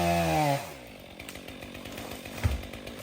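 Chainsaw roars as it bites into wood during a new tool trial at an off-grid bunkhouse site, a steady close, loud engine whine with a brief higher rev at the start and a sharp bump near the end.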